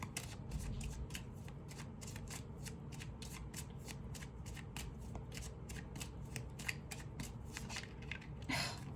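Tarot cards are shuffled in quick, rhythmic riffles, a steady run of crisp flutters with a heavier burst near the end, soft and close with no talking.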